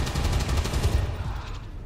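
Gunfire in the video game XCOM 2 comes as a rapid, rattling burst of automatic shots, loud and close, that slowly thins out.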